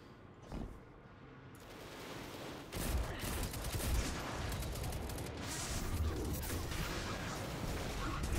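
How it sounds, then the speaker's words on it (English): Tarantula linear fusion rifle in Destiny 2, a brief charge-up followed by a sustained roaring burst of firing and crackling impacts, moderately loud. "I think this is called the Tarantula. It is a linear fusion rifle."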